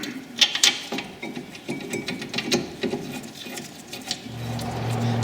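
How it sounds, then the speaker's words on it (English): Brake caliper carrier bolts on a Dodge Grand Caravan are run back in by hand, giving a quick series of metallic ratcheting clicks and scrapes up close, with a low mechanical hum rising near the end. "carefully put your carrier back into situ and start to get both of the bolts done back up"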